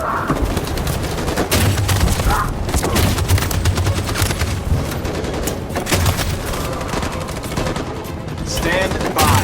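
Sustained machine gun fire from the video game Detroit hammers in dense rapid bursts throughout, loud and close, mixed with explosions and battlefield noise while voices shout over it.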